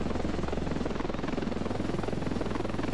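Dense, heavy rotor wash and rapid blade pulses from a nearby helicopter in the video game Ravenfield, loud and unbroken, with no speech.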